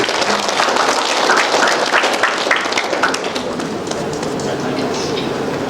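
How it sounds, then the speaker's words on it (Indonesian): Hall audience applauding for a university rector at an open senate session marking the 52nd anniversary of UIN Suska Riau, dense clapping that swells early then settles into a steady wash, with voices faintly underneath. "Kita berikan tepuk tangan kepada Rektor."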